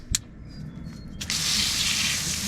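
An RV basement faucet sprayer switched to flat spray gives a brief click, then a steady hissing water spray starts and runs at close range.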